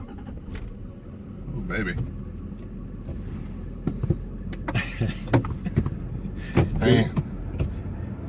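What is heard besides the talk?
Dodge Ram diesel truck engine running after engine flush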